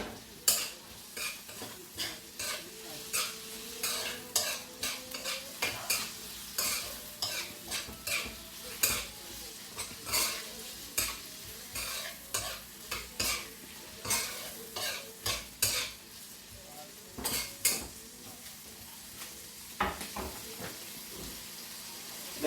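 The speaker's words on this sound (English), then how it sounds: "I'm gonna add the prawns now." Prawns frying in a pan with onion and soy sauce or browning, stirred steadily so a constant sizzle is broken by repeated scraping, clinking utensil strokes, close and fairly loud, with no talking.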